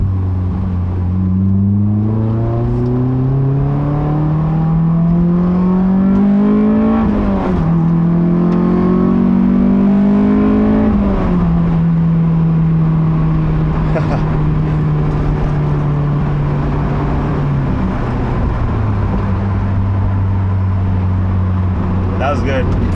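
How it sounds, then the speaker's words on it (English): A Honda S2000 sports car engine drones loudly and continuously from inside while driving, its pitch climbing through the gears, dipping at shifts, then holding a steady cruise. "Car's sounding good."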